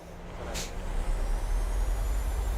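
Jet engines of a PMDG Boeing 737-600 in Microsoft Flight Simulator spooling up under applied throttle, a steady loud low roar that builds and holds, with a brief hiss near the start.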